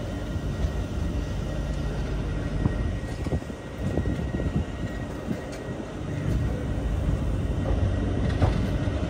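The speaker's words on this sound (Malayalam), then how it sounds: "കോഴിക്കോട് റെയിൽവേ സ്റ്റേഷനിലേക്ക് വണ്ടി എത്തിക്കൊണ്ടിരിക്കുകയാണ്" Parasuram Express pulling into Kozhikode railway station, a steady, loud rumble of the train with station ambience throughout and brief clanks and squeals rising over the drone.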